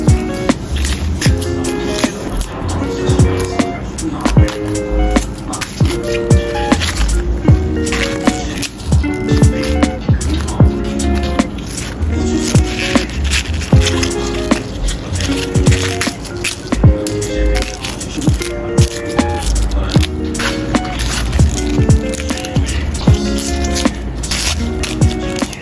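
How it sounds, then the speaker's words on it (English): Cabbage torn and shredded by hand in a kitchen, close crisp tearing and squeaky leaf snaps repeating steadily, heard over a patterned musical backing with a constant high hiss. "Hand-shredded cabbage."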